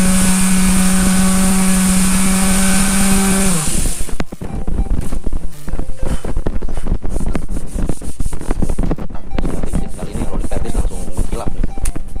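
A Doliz BA 330 electric sander works a surface at close range: a steady motor hum gives way to loud, continuous gritty rubbing that pulses with the strokes.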